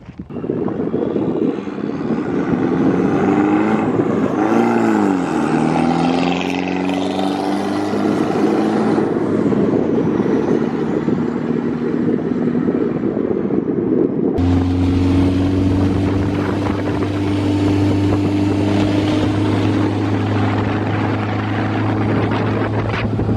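A homebuilt Locost kit car driven up and down a road, its engine droning loudly and close with pitch sweeping up and down as it accelerates and shifts, then settling into a steady, heavy hum.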